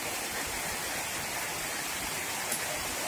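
Rushing water of the Citarum river in flood after continuous rain, a steady dense roar that fills the whole clip with no pause and no voices.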